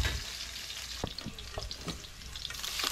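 Onion, garlic and chili saute in a pan with a soft, steady sizzle, broken by several light clacks of a utensil stirring the mix.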